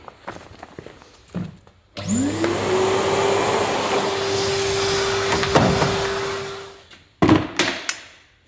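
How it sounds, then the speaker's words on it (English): A vacuum cleaner hoovers the interior of an AEC Routemaster London double-decker bus under restoration. The motor whines up, holds a steady loud drone for about five seconds, then spins down, with knocks and clatter before and after. "Just need to give it a good hoover now and then mop it out"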